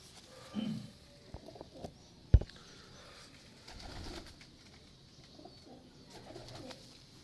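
Domestic pigeons from a fancier's loft, one a Salara, give a few soft, low coos at intervals against a quiet background, with a single sharp thump partway through.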